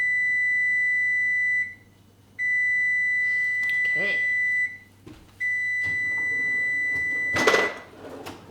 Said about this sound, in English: We're going to have a beep very soon.